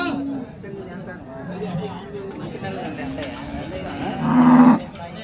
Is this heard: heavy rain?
no